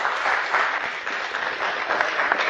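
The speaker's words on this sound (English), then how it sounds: "Round of applause for Cyrus" An audience applauds a speaker at a tech talk, steady dense clapping that carries on at full strength throughout, with no voices heard.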